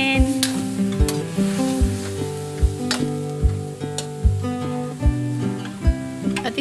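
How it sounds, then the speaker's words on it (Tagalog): Loud sizzling of chicken adobo in a hot pan with repeated scraping stirs at a steady rhythm, the crackle continuous beneath each stroke. "Haluin ulit natin."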